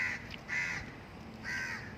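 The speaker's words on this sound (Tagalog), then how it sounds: "Daming uwak." Several crows cawing outdoors beside a wide open space near a highway, with coconut trees around, on an early morning walk; two bursts of harsh caws, moderately near, over a low steady background hum.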